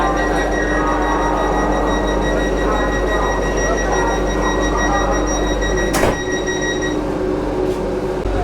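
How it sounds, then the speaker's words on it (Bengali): Automatic doors on a Vande Bharat sleeper train at Howrah station shut with a single sharp thud near the end, over a steady, loud hum from the standing train. "ট্রেনের গেট কিন্তু ক্লোজ হয়ে গেল"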